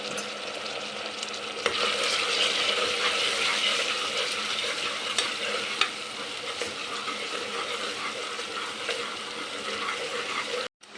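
Ginger garlic paste, onion and turmeric frying in a pressure cooker for chicken curry, a dense, steady, loud sizzle with faint stirring clicks that cuts off abruptly at the end.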